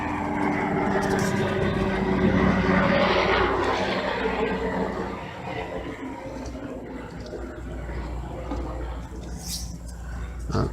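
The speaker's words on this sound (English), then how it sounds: "I've got helicopters buzzing overhead" A low, steady mechanical drone of a helicopter flying low overhead, loud and continuous, fading slightly toward the end.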